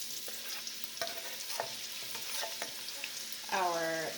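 Chopped onion stirred into 2 tablespoons of hot oil in a pan for a curried lentil flavor base, a soft sizzle with scattered stirring clicks and a louder scrape near the end, no talking.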